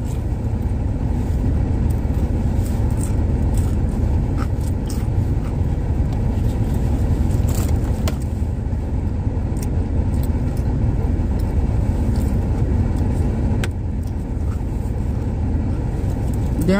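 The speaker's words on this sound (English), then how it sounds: "I don't know what kind of a truck that is" A maintenance truck passes by with a steady low engine rumble that stays loud and close for the whole stretch, with no talk over it.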